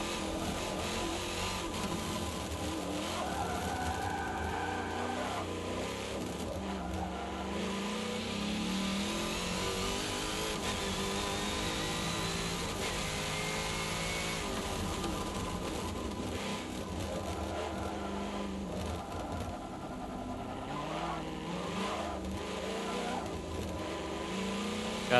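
A car engine revs and shifts through gears on the Top Gear test track in Forza 7, rising and falling with acceleration, with a person talking over it at times.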